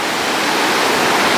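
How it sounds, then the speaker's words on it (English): Hurricane-driven ocean waves pound the shore as a loud, continuous roar of surf and rushing water, with no break or voices. "waves are coming in pretty good"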